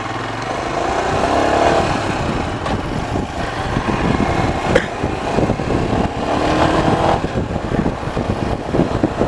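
A motorcycle engine rumbles steadily with a throaty exhaust note, close by, rising and falling slightly as it rides along.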